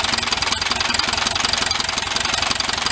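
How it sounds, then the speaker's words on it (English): A VW engine with a failing bearing runs steadily and loud at raised revs, a constant harsh knocking clatter with a brief dip near the half-second mark, no voices over it. "It'll go away if I rev it up a little bit."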